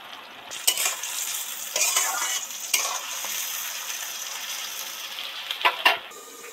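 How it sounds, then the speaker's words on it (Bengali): Onion and tomato frying in oil in a pan, a soft steady sizzle with a few louder clinks and stirring scrapes of a utensil against the pan, no talking. "কড়াতে পেঁয়াজ টমেটো তো সবটাই ভাজা হতে থাকছে"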